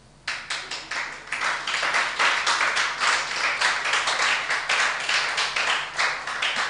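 An audience at a live event claps, starting with a few separate hand claps before swelling into a continuous round of applause that holds at a moderate level.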